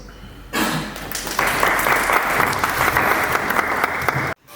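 A crowd at a ballroom community gathering bursts into loud applause after a quiet moment, the clapping swelling further and continuing steadily before cutting off abruptly.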